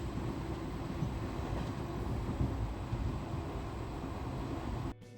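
A train rumbles steadily with a loud low roar and rattle of the carriages, continuous throughout, cutting off abruptly at the very end.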